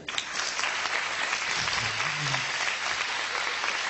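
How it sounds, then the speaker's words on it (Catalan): Audience applause at a live magic show, a steady dense wash of clapping that carries through the whole stretch at moderate distance, with a faint voice briefly underneath. "Aplaudiment per ella."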